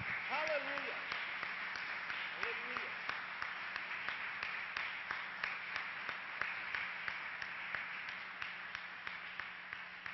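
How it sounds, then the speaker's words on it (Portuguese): A church congregation claps in a steady rhythm as a rapid, even run of claps heard from a distance, with a voice briefly audible near the start. "Aplauda o Senhor,"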